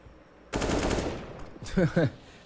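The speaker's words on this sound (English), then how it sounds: "Chris trying to shoot the smoke and not gonna help Bullet in any which way" Automatic gunfire in Counter-Strike: Global Offensive on the Mirage map during an esports match, a loud close burst of rapid shots followed by a couple of shorter ringing bursts.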